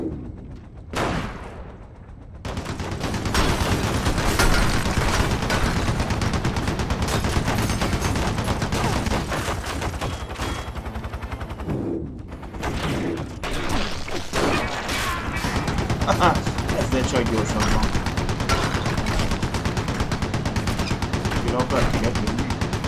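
Sustained rifle gunfire in the Stranglehold shooter game, dense rapid bursts of shots filling nearly the whole stretch with a brief lull near the start and another mid-way, loud and close, with a voice talking over it.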